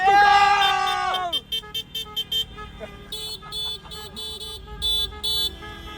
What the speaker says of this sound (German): Die ist stark eingestellt, die Hupe